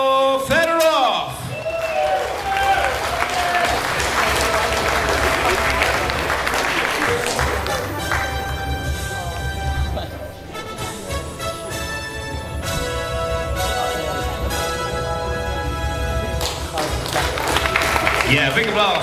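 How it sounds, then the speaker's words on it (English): An audience applauds at a classic world powerlifting championship medal ceremony in Suzdal, Russia, a continuous hall-filling clap mixed with crowd noise and music while an announcer's voice talks over it. "big applause"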